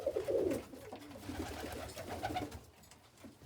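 Pigeons coo softly and continuously at close range while feeding, a low murmuring chorus of overlapping calls.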